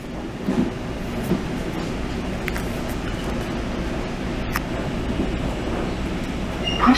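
Ride aboard a Montreal commuter train on the Deux-Montagnes line, a steady loud interior rumble of wheels and carriage with occasional brief clicks and knocks, no talk.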